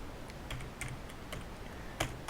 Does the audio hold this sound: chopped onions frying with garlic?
no